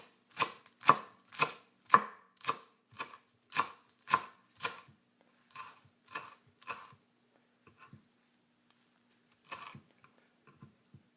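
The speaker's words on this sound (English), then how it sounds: "Yeah, so you want to chop it up to be about this small." A knife chops rolled-up herb leaves for salsa on a board: a run of about a dozen crisp, evenly spaced cuts, then sparser, quieter strokes after a short pause.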